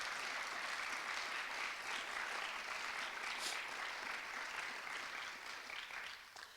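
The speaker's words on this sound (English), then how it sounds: "Let's give them a round of applause." An audience at a school district strategic plan launch applauds its staff, giving a steady wash of many hands clapping, moderately distant and even, tapering slightly at the end.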